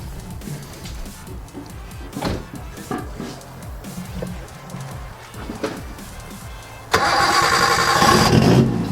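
A Nissan 240SX S13 cranks with a repeated rhythmic starter whirr for several seconds before catching and firing into a loud, rough running engine up close, ahead of rolling onto a hub dyno.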